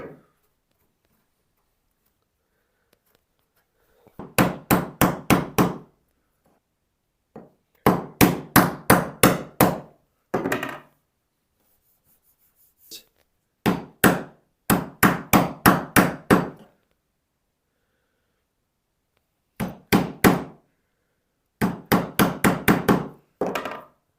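Mallet blows drive a chisel into a knife wall while cutting dovetails in wood, close sharp taps in quick clusters of four to eight strikes separated by short silent pauses.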